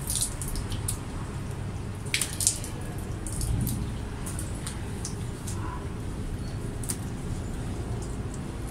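Irregular drips and splashes of water squeezed from a wet dog's fur during grooming, close by, scattered squishy spatters over a quiet background with no talking.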